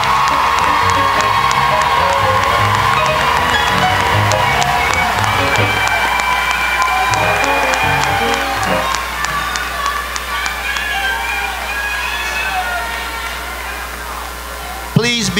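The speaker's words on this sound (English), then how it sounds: "Let's give him another round of applause." Large crowd at a spring university commencement ceremony applauding and cheering, a dense sustained wash of clapping with whoops and shouts across the whole stretch, loud and close, easing slightly toward the end.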